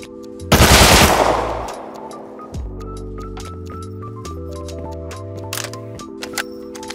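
A burst of SMG fire in the survival game Rust, loud and rapid near the start, followed by game music and electronic tones with a few sharp clicks.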